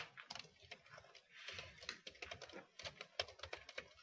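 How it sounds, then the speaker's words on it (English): Someone types on a computer keyboard in quiet, irregular bursts of soft clicking keystrokes, faint and close, with short pauses between runs. "I'm just typing in if anybody has any questions."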